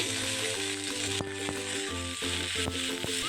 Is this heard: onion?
yes